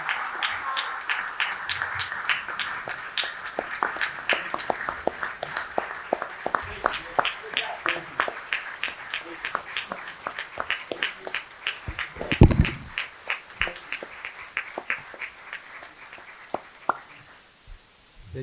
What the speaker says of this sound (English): Suggest we stand up for applause.